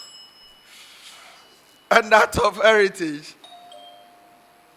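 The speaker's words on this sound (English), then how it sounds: "Let me hear the bell from the University of Cape Coast." Electronic contestant bells ring at a national tertiary business quiz championship, a sustained tone before and after a voice announcing a team.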